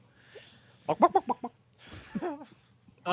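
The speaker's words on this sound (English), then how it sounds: "This way the chicken doesn't run away." A chicken clucks nearby in short bursts, first a quick run of four or five clucks, then a rising squawk-like call after a rustling pause, against a quiet background.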